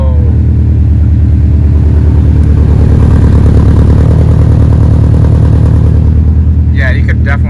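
A 2021 Subaru STI engine idles with a loud, steady, deep rumble close by, a few sharp clicks and a short voice burst near the end.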